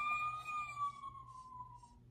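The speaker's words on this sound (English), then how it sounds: "This is the sound of a fire truck." A fire truck siren wails in a long, steady tone that slowly falls in pitch, loud and close.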